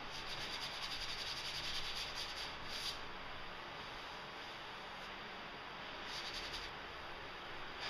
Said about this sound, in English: I got a fine sanding sponge here, and I'm just going to lightly go over it, dry sanded